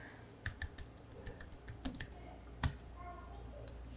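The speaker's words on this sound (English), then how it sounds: "If I go to Redfin and I type in Riverside," Typing on a computer keyboard, a quick run of faint light key clicks close by, with one sharper tap partway through.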